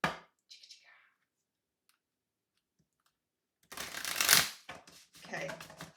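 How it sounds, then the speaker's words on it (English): Tarot cards shuffled by hand, a brief riffle near the start, then a burst of dense, close shuffling and flicking in the latter half, fairly quiet overall. "Okay, let's shuffle."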